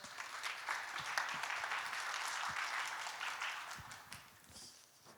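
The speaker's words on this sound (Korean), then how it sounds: "박수로 맞아주십시오" A conference audience applauds to welcome the first speaker of a blockchain and social value session, a steady wash of many hands clapping at moderate level for about five seconds and tapering near the end.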